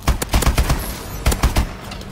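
Rapid video game gunfire: close, loud bursts of fast shots in two clusters with a short lull between them.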